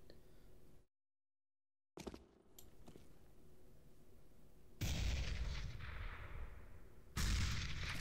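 A grenade thrown in a video game from a spot standing on level geometry sets off a sharp burst after a brief dropout, then two loud, booming blasts with rumbling tails a couple of seconds apart.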